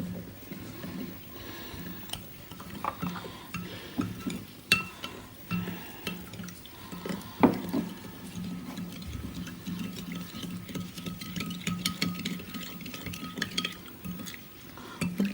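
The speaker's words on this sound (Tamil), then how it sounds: "உப்பையும் மஞ்சளும் போட்டு கலக்கி எடுத்து வச்சுக்கிட்டோம்" Salt and turmeric are stirred into water in a bowl for Kerala nendran banana chips, with soft, irregular clinks and scrapes of a spoon against the bowl, close and fairly quiet, over a faint kitchen background.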